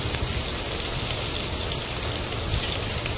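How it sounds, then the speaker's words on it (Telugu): Garlic and onions sizzling in hot oil for bottle gourd rice, a dense, even crackling hiss like rain that continues steadily and loudly with no voices. "వెల్లుల్లిపాయ, ఉల్లిపాయలు 2 యాడ్ చేసి ఫ్రై చేసుకుందాం"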